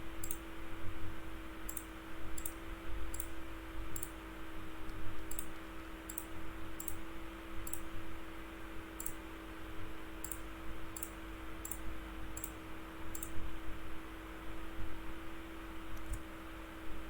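Mouse clicks while the shift key is held, selecting letters in Photoshop: a series of sharp, evenly spaced single clicks over a low steady hum and computer fan noise, with a brief pause midway, no talking.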